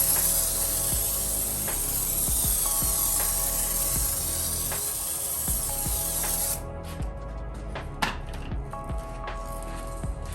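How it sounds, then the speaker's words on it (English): Foaming Fuzion cleaner sprayed onto the lower panels of a Tesla Model Y Performance in a home garage, a steady close hiss for about six seconds, then quieter with scattered clicks and handling sounds. "Because there's extra dirt at the bottom, we're going to use the Fuzion foaming product."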